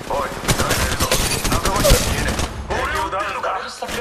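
Rapid automatic gunfire bursts in Apex Legends Mobile, loud and close with repeated shots and a boom, under game voice lines.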